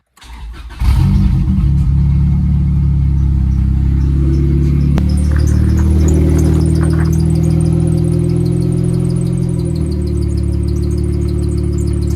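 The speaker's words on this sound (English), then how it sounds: "what I'm gonna do now is start the car" A turbocharged Honda Integra GS-R engine cranks and catches, then settles into a loud, steady idle with a brief rise in revs partway through.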